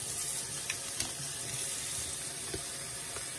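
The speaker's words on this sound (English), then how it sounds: "start the water running" Steady broadband rush of room-temperature water running from a tap, continuous and fairly close, with a few faint clinks, and nobody talking.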